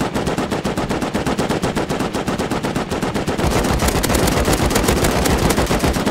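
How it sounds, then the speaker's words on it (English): A minigun fires without pause in the survival video game Rust, a loud, very fast stream of shots with no break, growing slightly heavier partway through. "That's the mini gun."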